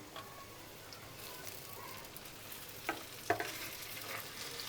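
Tomatoes dropped into a pan of frying onions while cooking egg kheema, a soft, steady sizzle with a few faint stirring clicks and taps, quiet and close, no talking.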